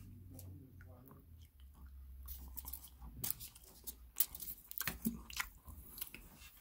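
A Swizzels Drumstick chocolate bar with a milk filling is chewed close to the mic, giving soft, moist chewing and light crunching at an uneven pace with a few quiet gaps.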